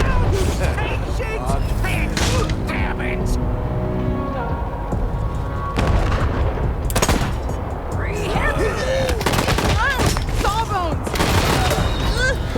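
Dense gunfire and impacts from a Wasteland 3 combat ambush fill the clip with a loud, continuous mix of shots, bursts and booms, layered with game effects and someone talking over the action.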